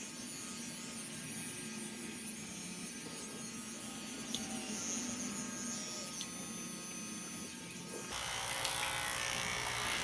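Electric dog grooming clippers hum steadily while trimming a miniature dog, a constant close buzz that shifts tone near the end.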